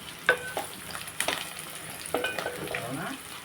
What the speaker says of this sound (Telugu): ఇప్పుడు మనం ఇందులో అల్లం వెల్లుల్లి పేస్ట్ వేస్తాం.